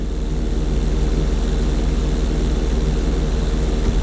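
A propeller airplane engine drones loud and steady in Grand Theft Auto 5, a constant throbbing hum with no variation or voices across the whole stretch.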